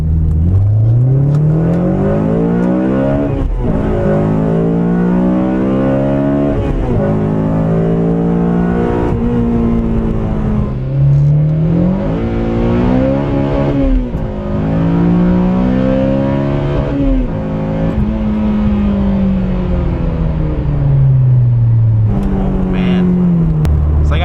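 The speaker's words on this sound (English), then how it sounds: "I have to try out that VTEC again" A 2006-2011 Honda Civic Si engine revs hard while driving, the pitch climbing steeply and dropping again in repeated loud, close pulls through the rev range, with a brief lift between them.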